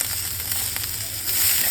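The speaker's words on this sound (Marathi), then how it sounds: "आता यात कॅप्सिकम आणि ऑनियन याला फ्राय करून घेऊया." Capsicum and onion sizzle steadily in a hot pan for a restaurant-style paneer chilli, a close continuous frying hiss with a low bubbling rumble throughout.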